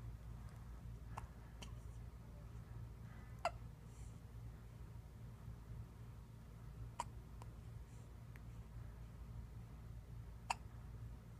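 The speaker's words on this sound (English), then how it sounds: "Oh, you get tired of those hiccups?" A baby hiccups softly, a handful of brief, faint clicks spaced irregularly over several seconds against a quiet, steady background hum.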